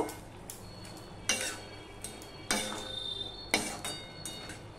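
A spoon stirring sweet pumpkin in a pan with sugar, giving a few distinct scraping clinks spaced about a second apart over a soft, steady simmer.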